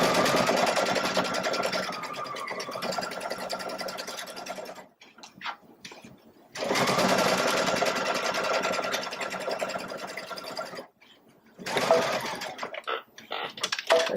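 A Baby Lock Solaris sewing machine stitches in fast, continuous whirring runs, close and loud, stopping twice briefly and starting again, with no talking.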